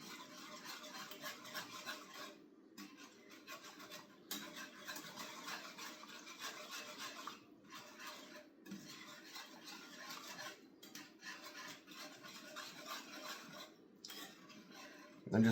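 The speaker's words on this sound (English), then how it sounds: "Make sure you're scraping the bottom of the pan, getting all that good bacon" A utensil scrapes back and forth across the bottom of a pan of bacon gravy, a soft, continuous rasping stir with short pauses, fairly faint and close.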